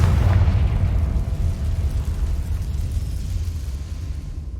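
Confringo spell blast in Hogwarts Legacy: a deep, loud explosive boom bursting at the start and rumbling away over several seconds, with no talk.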